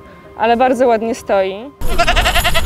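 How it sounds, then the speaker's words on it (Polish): A goat on a farm stay bleats in several wavering, quavering calls, close and loud, followed by a person speaking over rustling background noise. "Proszę, jest koza."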